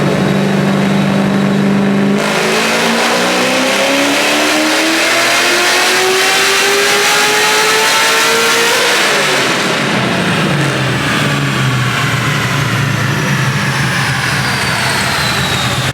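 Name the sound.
Smeding 441 LS3 car engine revving on chassis dyno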